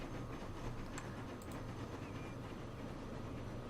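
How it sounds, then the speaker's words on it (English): Electric train running in the rail simulation game Transport Fever, a steady low rumble with broadband track noise that holds evenly throughout and carries a few faint high clicks. "And we got our first electric train on the go."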